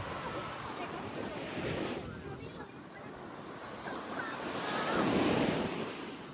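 Sea waves break on Alcudia beach with wind, a continuous rushing wash that swells and recedes, loudest as a wave crashes near the end, with wind buffeting the microphone.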